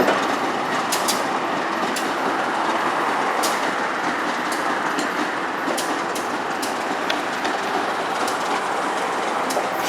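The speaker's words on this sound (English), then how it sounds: "the DPU is coming by, so I decided to shift right back down to the other side of the bridge to see it rolling to a stop." A Union Pacific freight train's DPU locomotive and cars roll slowly past to a stop, with loud steady rumbling and intermittent wheel clicks and clanks close by.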